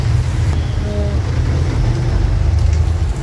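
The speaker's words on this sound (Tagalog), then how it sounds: "super lakas na po ng ulan yan" A loud, steady roar of heavy typhoon rain with strong low rumble, constant throughout and without any talking.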